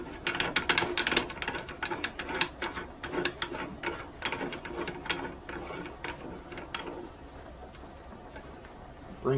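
A Lee Classic Turret reloading press, its ram raised by the handle with a shell holder fitted, gives close mechanical clicks and ratcheting ticks in an uneven series, fading toward the end.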